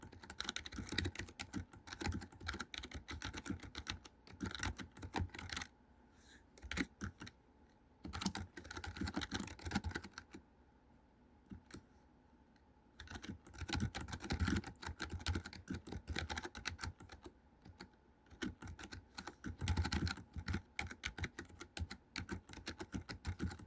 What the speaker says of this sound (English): This keyboard's quiet. It's actually small. I realize it doesn't have the number pad